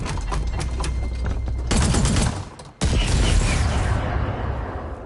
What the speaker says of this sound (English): Plasma bomb launcher.